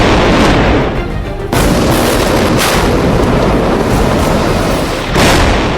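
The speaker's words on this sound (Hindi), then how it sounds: "एक धमाका होता है" A loud, rumbling explosive blast with heavy low-end boom, sustained roar and debris-like crackle, breaking off briefly around one second and then swelling again, with another surge near the end.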